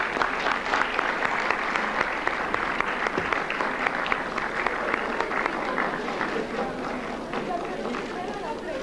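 An audience at a 1993 concert applauds a singer, giving sustained, dense clapping from a large crowd at a steady level with no break.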